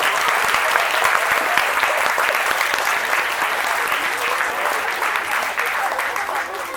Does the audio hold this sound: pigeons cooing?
no